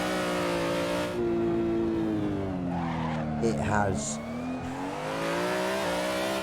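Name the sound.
Aussie Drift Co BMW M3 drift car driving, Assetto Corsa video game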